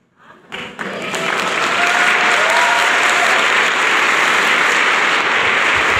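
A large church congregation breaks into applause that swells quickly and holds as a loud, sustained clapping roar.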